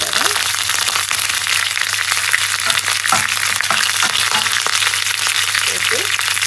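Curry leaves, dried red chillies and a little fennel seed fry in hot oil for a Jaffna-style yam stir-fry: a loud, steady crackling sizzle with spatula clicks, plus a low constant hum.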